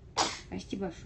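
A single sharp sneeze indoors, followed at once by a short spoken apology.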